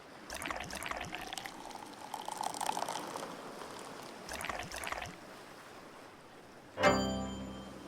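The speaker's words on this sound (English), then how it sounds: "my beer pouring skills aren't great" Beer poured into a glass in the Dave the Diver video game: a sustained frothy, bubbling pour with splashing surges, ending in a sharp chime-like game sound effect near the end, no talking.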